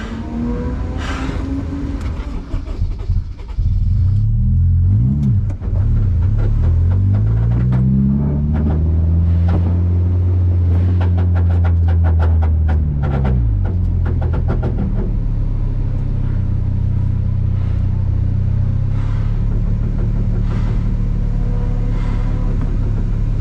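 A Honda S2000 pulls off the track at Suika Circuit into the infield oval. The engine rumbles loud and close from inside the car, its pitch rising and falling through revs and gear changes before settling into a steady drone.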